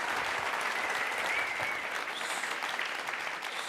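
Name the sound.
applause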